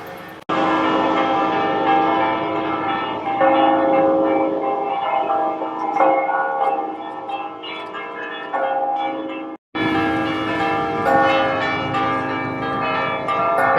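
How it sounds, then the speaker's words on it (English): Several church bells in Valletta, Malta peal together loudly and continuously, overlapping in a dense ringing wash, with a brief break near the end before resuming. "All the different church bells that are ringing."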